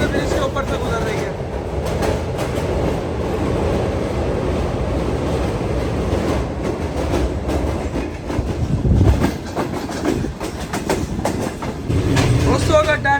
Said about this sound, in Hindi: तो इस रेलवे ब्रिज के ऊपर से गुजर रही है।